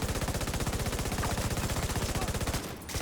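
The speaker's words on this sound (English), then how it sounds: "Shooting the railing there." Rapid automatic gunfire in a video game, shooting at a railing, sounding as a steady, loud burst of fast repeated shots that runs for over two seconds before a brief break and resumes.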